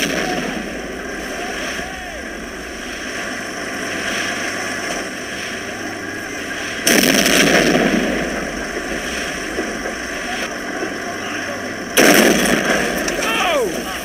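Gunfire and artillery in the Men of War World War II strategy game: a steady rumble of battle carries two sudden loud blasts, each followed by crackling shots, while commands are shouted over the din.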